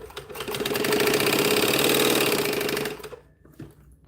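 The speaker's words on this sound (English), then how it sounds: "So now I'm just going to fold back this bit and stitch this closed." A sewing machine stitching fabric closed on a scrap-busting trollop bag project, running in one steady, fast whirring burst for about three seconds before stopping, close and loud, followed by a faint clunk.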